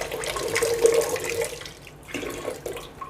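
Running water from a tap pours over water filter parts as they are washed, a continuous splashing rush close by that eases off partway through.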